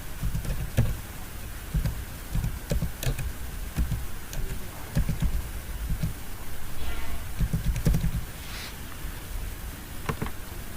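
Card details being typed on a computer keyboard, heard as a steady run of soft, close key clicks over faint room noise.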